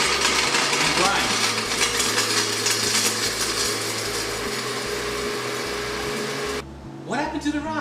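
An electric spice grinder pulverizes two whole nutmegs, hard as rocks, in a loud continuous whirring buzz with rattling hard bits, running steadily for several seconds before cutting off abruptly, followed by a brief voice.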